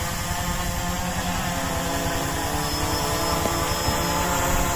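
A large Arduino-controlled drone flies nearby, its propellers producing a constant loud whirring buzz with steady tonal hum, unbroken throughout with no speech.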